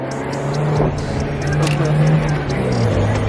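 Mazda NA Miata engine revved in first gear, a loud, steady exhaust drone rising slightly in pitch, recorded close with a faint voice mixed in.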